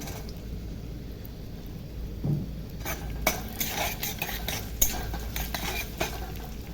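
Dried chillies and carrot being stirred in a pan for fried rice, a soft sizzle under intermittent scraping and clinks of a spatula against the pan, fairly quiet and without talk.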